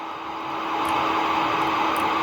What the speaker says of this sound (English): this space plane is rolling a lot because of this very fast engine